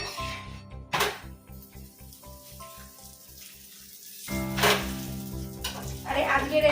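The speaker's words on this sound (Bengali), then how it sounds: "আর সেই রুটিগুলো থেকে গেছে, ফেলবো না। এই তেল দিয়ে একটু গরম করে নিচ্ছি" Leftover rotis warming in oil in a pan give off a soft, steady sizzle, with clattering handling noises and a louder burst of frying near the end.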